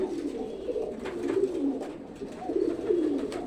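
Giribaz pigeons cooing in a pigeon house, a steady low throaty burble of several birds overlapping continuously at close range with no talk.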